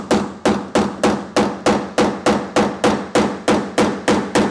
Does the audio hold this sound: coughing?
no